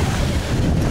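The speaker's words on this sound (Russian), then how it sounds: "но вот такие волны, я уже честно не знаю" Stormy sea waves crash under hurricane-force wind, making a loud, dense, unbroken roar with heavy wind buffeting on the microphone and no speech.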